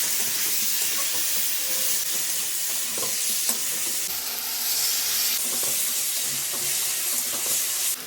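Ginger, cumin and green chili paste frying in hot oil with a steady, close sizzle and faint stirring scrapes, part of a Bengali fish curry with cauliflower and potato being cooked.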